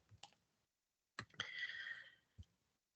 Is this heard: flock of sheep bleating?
no